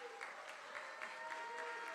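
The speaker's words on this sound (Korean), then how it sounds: "임승우 선교사님 앞에 나와서 수고해 주실 텐데, 우리 두 분 앞으로 모실 때에 우리 우레와 같은 박수로 우리 이분들을 모시도록 하겠습니다." Faint, distant applause from a church conference congregation welcoming a pastor and his interpreter, a soft steady patter under a sustained musical tone.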